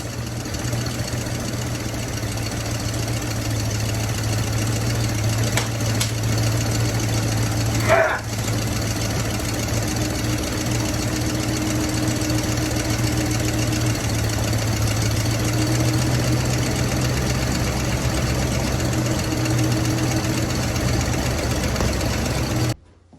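A 1966 Oldsmobile Toronado barn-find engine runs for the first time in 23 years, holding a loud, close, steady idle with a low drone throughout and one brief knock near the middle.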